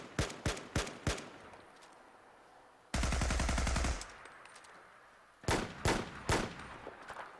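Unsuppressed AR-15 rifles fire in Fallout 4, with sharp single shots at the start, a dense rapid-fire burst in the middle, then more spaced, echoing cracks trailing off.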